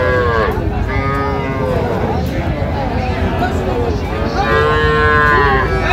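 Young bulls and heifer calves at a busy rural cattle market in Ranigonj, Dinajpur, mooing in long loud overlapping calls close by, over a constant crowd murmur.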